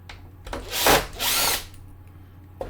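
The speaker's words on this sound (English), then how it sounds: "I'm just going to take out these couple of screws that shouldn't be there" A power screwdriver backs screws out of a faulty PS5 console in two short, close whirring bursts, with quiet handling noise between and after.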